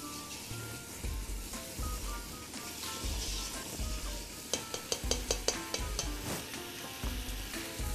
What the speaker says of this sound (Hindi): इसको आप मिक्स करते जाएं जब तक पालक ड्राई होना शुरू हो जाए फिर से